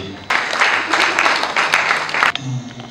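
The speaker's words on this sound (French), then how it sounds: "Et sous vos applaudissements, je vais inviter." Audience applause breaks out at a book launch, a dense burst of clapping from a room full of people that holds steady for about two seconds before tapering off into murmuring.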